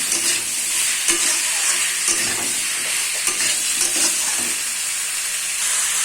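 Vegetables with ground coriander and Maggi masala frying in a pan, a loud, continuous sizzle with soft clicks of stirring.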